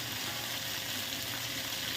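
Continuous oily sizzling from a hot pan, steady and close, with no voices.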